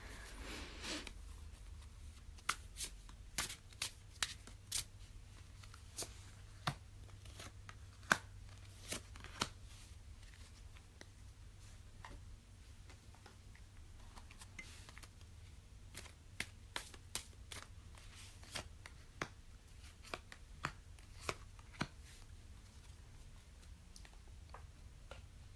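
Tarot of Sexual Magic cards being shuffled by hand, a long run of crisp, irregular riffling clicks and slaps close by over a low steady hum, with no talking.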